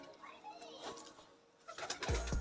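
Soft, low cooing from high-flying pigeons in a loft, faint and close, with light rustling and a louder thump as a pigeon is handled near the end.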